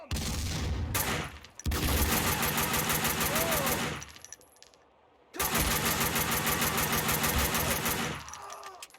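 Sustained automatic gunfire from a Max Payne 2 firefight, dense bursts filling most of the stretch with a short lull midway before the shooting resumes loud and close.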